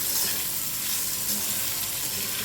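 Ivy gourd (tondli) stir-frying dry in a pan, a dense, even sizzle and crackle that holds steady at close range for a couple of seconds.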